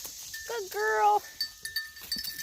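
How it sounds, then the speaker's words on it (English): Goats bleat close by while being jostled, a wavering bleat followed by short scuffs and thumps of animals pressing around, with a faint high ringing tone in the background. "Getting jostled by my goats."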